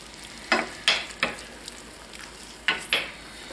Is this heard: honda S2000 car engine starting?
no